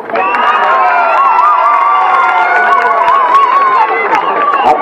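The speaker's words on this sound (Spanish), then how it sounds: "aplauso para los Minions." A lively crowd cheers, whoops and shouts continuously at a dog costume contest at Village Plaza in Samborondón, greeting dogs dressed as Minions, with children's voices and an announcer's voice carried over the steady din.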